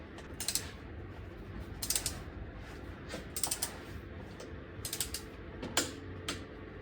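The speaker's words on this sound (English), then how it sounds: "Now we're going to torque it down to 21 foot-pounds." A torque wrench ratchets a transfer case plug tight on a 2024 Jeep Wrangler, producing short bursts of close, crisp ratcheting clicks separated by pauses, heard over a faint steady background.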